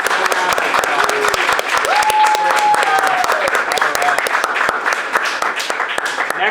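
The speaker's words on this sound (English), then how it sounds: "Everyone, please give Team Professionals a round of applause." Studio audience at a game show breaks into loud, dense applause for a competing team, sharp individual claps standing out and a voice calling out over the clapping.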